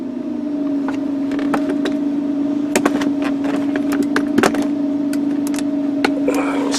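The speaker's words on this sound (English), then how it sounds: "Got the vehicle running." A Nissan car engine idles with a steady tonal hum while nearby clicks and tapping sounds punctuate it, a person talking intermittently close by.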